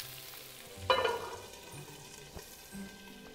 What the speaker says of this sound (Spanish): el tocino va a soltar su propia grasa